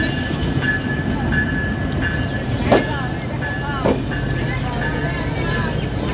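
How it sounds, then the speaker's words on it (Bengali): The Benapole Express passenger train runs at speed with a constant rumbling roar, rhythmic wheel clatter and short metallic squeals, while a voice talks over it. "বেনাপোল থেকে ছেড়ে আসা ঢাকা অভিমুখী সাতশো পঁচানব্বই বেনাপোল আমাকে নিয়ে আলমডাঙ্গা ছাড়লো"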